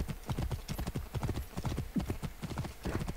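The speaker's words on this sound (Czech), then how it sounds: "Dobře, já si zavolám tadyhle koně." Horse hooves clip-clopping in the video game Assassin's Creed Origins, a quick steady gallop of dense hoof beats at close range with no talking.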